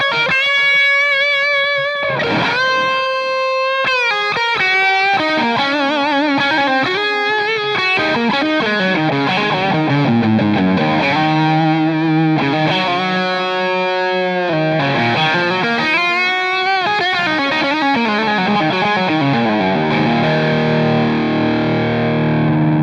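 An electric guitar runs through a Bogner Ecstasy 3534 50-watt amp on its boosted blue channel, producing loud, saturated distorted lead lines with sustained notes and bends, played alone without any voices.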